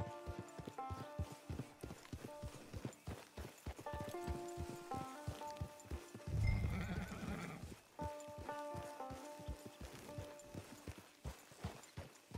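Horse hooves clip-clop steadily while riding in Red Dead Online, a dense rhythmic trot under layered music, with a brief louder rumble midway.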